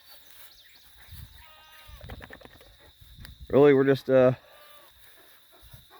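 Two loud, close bleats from Kiko goats grazing in a tall pasture, with a person speaking quietly before and between them under a steady high whine.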